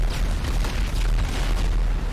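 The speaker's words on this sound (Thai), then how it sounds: "วางระเบิด" A bomb goes off in the video game GTA V as a loud, close boom whose deep rumble fills the whole moment and fades only slightly.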